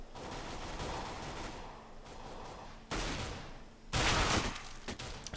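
An MP9 submachine gun fires in Counter-Strike on the Dust 2 map: a few short, rapid bursts, with a louder, denser volley near the end.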